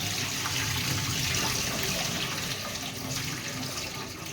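A continuous rush of water being drained from a cooking pot, splashing down loud and close throughout, with no speech.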